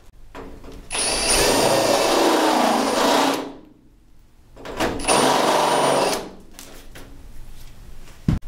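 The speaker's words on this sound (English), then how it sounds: "Drill through here and see if it actually got put in the right location." A power drill drilling a rudder cable exit hole whines loudly in two bursts, the first about two seconds long and the second shorter, with quiet pauses around them.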